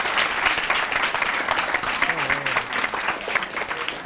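Dense, sustained studio audience applause on a Catalan TV quiz show, loud and steady throughout with many hands clapping together, a brief voice rising under it midway.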